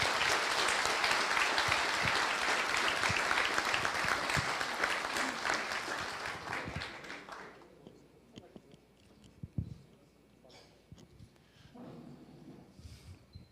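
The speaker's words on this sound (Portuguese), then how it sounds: "eu vou pedir aqui para o senhor uma salva de palmas ao professor Kerr" An audience at a beekeepers' gathering applauds Professor Kerr, a dense, loud clapping that holds for about six seconds, then tapers off into scattered claps, rustling and murmured voices.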